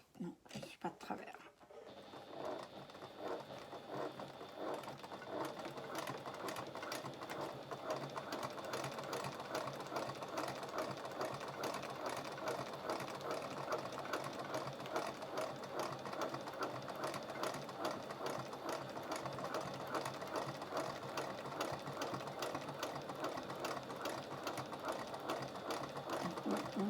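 A sewing machine topstitches along the seams of patchwork bag pieces, running in a fast, steady mechanical patter after a short start, close and even for the whole stretch.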